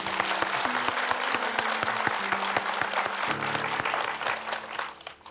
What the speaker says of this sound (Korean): 우리 저분을 위해서 박수 한번.